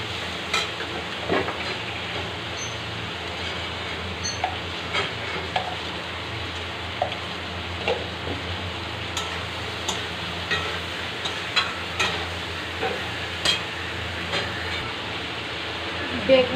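Eggplant and potato fry together with turmeric and salt in a pan, giving a continuous soft sizzle with scattered clicks and scrapes from stirring throughout.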